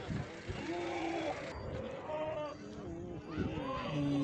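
Goats at a livestock market ahead of Bakrid give a few wavering bleats, near and moderately loud, mixed with someone talking and some background crowd noise.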